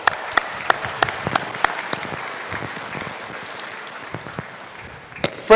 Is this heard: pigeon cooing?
no